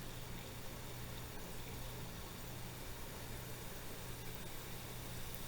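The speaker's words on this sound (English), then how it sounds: "It's bubbling up and going through the oil, and then it falls back down into the water." Alka-Seltzer tablet fizzing in a container of water topped with oil, giving a soft, steady hiss of tiny bubbles rising and popping throughout, faint and close, with no voices.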